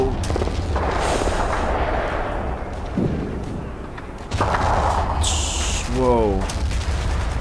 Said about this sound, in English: Artillery's opening up on the Panther.